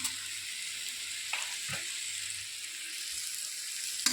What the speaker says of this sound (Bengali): এবারে এটাকে নেড়ে করে ভালো করে শুকনো করে নিতে হবে।